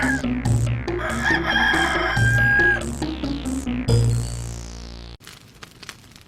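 A rooster crows loudly several times in succession, with music playing underneath, then the sound cuts to a quieter noisy background.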